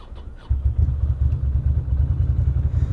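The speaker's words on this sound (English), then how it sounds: "My bike is barely starting." A motorcycle engine in cold weather labours to start, a brief cranking stutter giving way to a low, uneven, sputtering idle close by.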